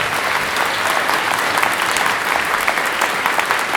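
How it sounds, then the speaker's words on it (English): A crowd claps steadily at a wildfire community meeting about the Cranston Fire in Idyllwild, sustained dense applause throughout with no voices over it. "A round of applause for the local nonprofits as well."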